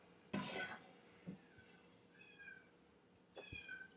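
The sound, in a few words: cat meowing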